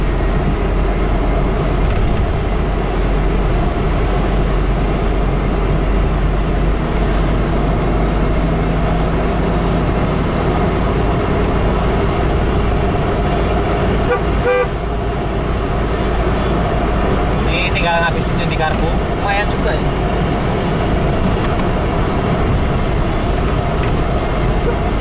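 A Mitsubishi Kuda with a 1600cc engine keeps running on the last fuel left in its carburetor, a loud, steady, close engine drone that holds unbroken throughout, with only slight flutters partway through.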